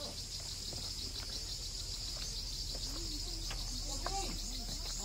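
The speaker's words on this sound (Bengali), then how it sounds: "চারিদিকে ঝিঝি পোকার ডাক" Crickets chirp all around in the Garden of Caves near Cherrapunji, a dense, continuous high-pitched trill filling the air, with occasional faint bird calls scattered through it.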